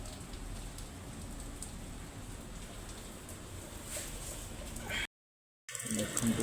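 Steady heavy rain falls as a dense, even wash of noise, loud and continuous, with a brief dropout near the end before the downpour resumes.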